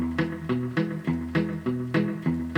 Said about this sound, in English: See that nice, tight, muted sound?